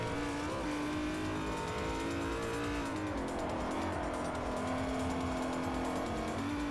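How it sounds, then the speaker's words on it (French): A car engine in the Forza Motorsport 4 video game pulls in second gear, a steady loud drone with a humming pitch that dips and rises again, heard alone. "On va accélérer en deuxième"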